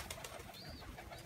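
Young pigeon squabs give thin, faint squeaking calls in a loft, short high peeps over a soft background hum.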